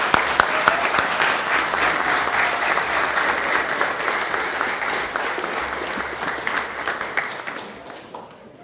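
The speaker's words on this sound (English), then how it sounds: "one more round of applause for the new candidates" A council-meeting audience in Princeton applauds newly sworn-in candidates with sustained, dense clapping that holds steady for several seconds and tapers off at the end.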